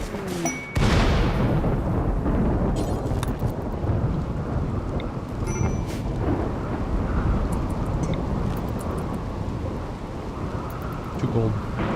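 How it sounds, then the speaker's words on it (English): Rainy thunderstorm in a video game on a sea ice map: heavy rain hisses steadily as a loud thunder crack opens into a long, rolling rumble. "we've got a Rainy Thunderstorm here"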